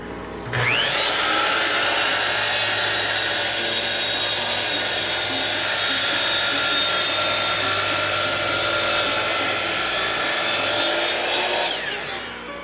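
A power saw cuts a walnut board to length, a loud, steady whining cut that runs for about twelve seconds before winding down, with no talking.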